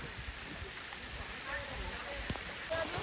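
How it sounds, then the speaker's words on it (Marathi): Steady heavy monsoon rain patters on a surface at a farmhouse, a soft continuous hiss with occasional louder drops; faint voices talk in the background. "हे पाऊस आले. थांब पाऊस आले."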